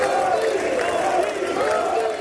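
Lawmakers in a legislative chamber stand and applaud as a speaker walks to the podium, a steady, dense wash of clapping and crowd noise with some cheering mixed in, sustained throughout without pause.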